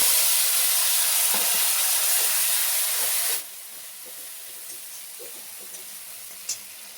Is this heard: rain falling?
no